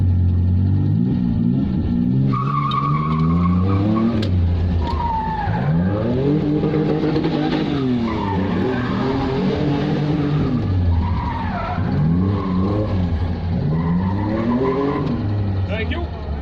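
A V6-engined car is driven hard at an autosolo, the engine revving up and down through sweeping pitch changes with tire squeal, loud and close, with voices talking over it.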